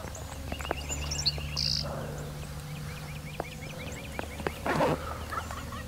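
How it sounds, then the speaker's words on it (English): Wild turkeys gobble on a Texas ridge, several loud rolling gobbles ringing out at moderate distance amid bird chatter and faint ambient noise. "We're right here on this ridge that kind of is, it's in between both groups of turkeys that are gobbling."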